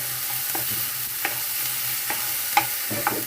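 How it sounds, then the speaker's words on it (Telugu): Onions and tomatoes fry in hot oil in a pan, with a steady sizzle and several sharp scrapes and clanks of stirring spaced through the short stretch. No one speaks. "మనం దీన్ని అయితే కాసేపు మనం ఇప్పుడు ఫ్రై చేద్దాం ఫ్రెండ్స్."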